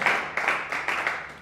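Church congregation clapping during a Spanish-language sermon, a short burst of steady, fairly close applause with a rhythmic pattern of repeated hand claps.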